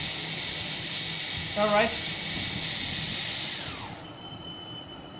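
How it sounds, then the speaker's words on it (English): Quadcopter motors spin up together as the throttle rises on a board being calibrated, making a steady high-pitched whine that fades and drops off near the end. A voice speaks briefly. "If you increase the throttle, all motors are running simultaneously."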